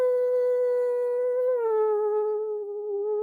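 Human voice imitating the cry of the Ahool cryptid, a single sustained, howl-like tonal call that drops in pitch halfway through and trails off, clear and alone.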